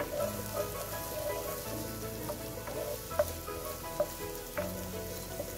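Onions fry for jeera rice in a pan over a medium flame, with a little lemon juice added as they turn golden brown. A steady soft sizzle runs throughout, broken by a few faint taps of a spoon.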